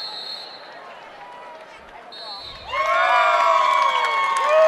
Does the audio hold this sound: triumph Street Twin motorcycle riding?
no